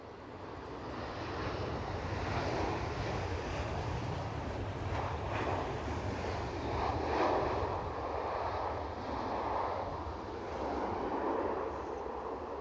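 Edelweiss Airbus A320 from Zurich at Edinburgh Airport in gusty wind, a broad, distant jet roar swelling and easing over several seconds beneath wind buffeting on the microphone.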